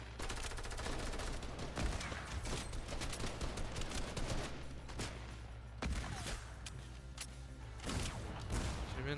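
Gunfire in a shooter video game: dense, loud bursts of rapid shots and automatic fire crowd the whole stretch, with sharp individual cracks standing out and no talking over it.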